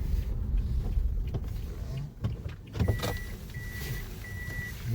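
Interior of a Toyota Voxy hybrid with a Honda lithium battery fitted, driving at steady speed with a low road and engine rumble, then a soft clunk and a few short repeated electronic chimes near the end.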